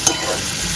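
Onions fry in a pan for a Maharashtrian poppy seed curry, giving a brief, steady close-up sizzle that opens with a small clink.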